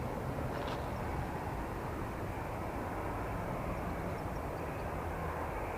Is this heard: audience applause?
no